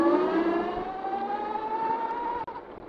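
A Tuttio ICT electric dirt bike pulling off at full power gives a loud, steady electric motor whine whose pitch climbs smoothly over three seconds, with no talk over it.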